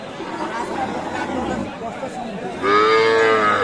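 A loud, close milk cow moo begins partway through, following a stretch of people chattering in the background at a livestock market.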